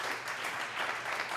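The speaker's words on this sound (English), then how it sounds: "Good clap" A live audience at a comedy podcast taping in South Philly gives a short burst of clapping, faint and somewhat distant, a brief even patter of many hands with no voices.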